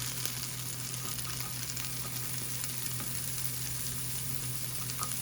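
Diced potatoes sizzle steadily in a hot pan as onions are added, making a dense, even frying hiss with faint crackles throughout and a low hum underneath.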